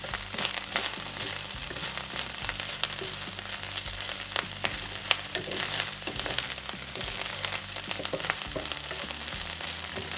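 Leftover fried rice sizzling hard in a hot pan while a utensil scrapes and stirs it, a dense steady frying crackle with frequent sharp scraping ticks throughout, no talking.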